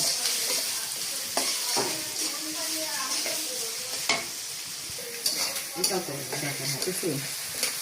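Onions frying in mustard oil for a home-style chicken curry, a steady close sizzle with repeated scraping stirs and occasional clinks of the spoon against the pan.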